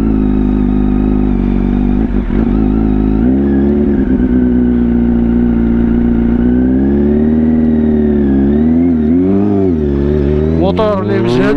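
Kawasaki Z800 motorcycle ridden through congested city traffic, its engine droning steadily loud throughout with rises and falls in pitch as the throttle changes, ending in a sharper rev, with other traffic around.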